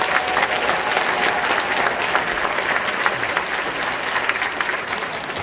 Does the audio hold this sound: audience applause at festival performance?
yes